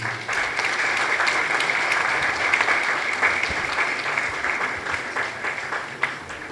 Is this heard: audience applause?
yes